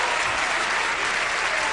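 Dense, steady audience applause fills a theater at the Apollo during a talent show, a continuous wash of many hands clapping at even loudness throughout.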